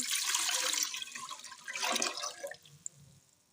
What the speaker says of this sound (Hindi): 4 गिलास हम इसमें डालेंगे पानी